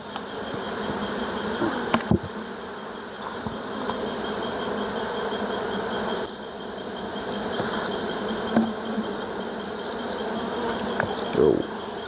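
Steady, dense buzzing of many honey bees close by at a Nigerian bee farm during honey harvesting, a continuous drone with a few brief louder passes.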